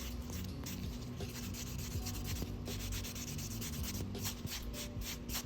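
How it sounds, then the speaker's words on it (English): Steady, faint rubbing and scratching as a buffing block lightly buffs gel nails. The strokes come in a quick, continuous rhythm, close up, with no talking. "Using the buffing block, I'm just gonna lightly buff just to isolate that chrome"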